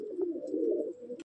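A Madrasi pigeon of an old bloodline coos in a loft in Sodhpur, one low, rolling, throaty call held for about a second, close and clear with no talk.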